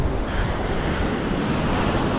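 High-tide ocean surf along the beach at Candeias, Jaboatão, near Recife, rolls as a steady broadband wash with wind buffeting the microphone, loud and close with no voices.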